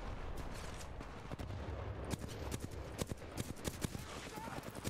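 Gunfire in the Titanfall 2 video game, a rapid series of sharp shots cracking over a rumbling background, with a voice talking underneath.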